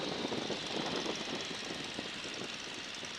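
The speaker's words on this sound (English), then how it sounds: "Now listen to it. Do you hear the airplane slowing down?" A Stearman biplane slows in flight, its engine giving a steady, broadband drone with wind rush. The sound is fairly even and subdued, with no talking over it.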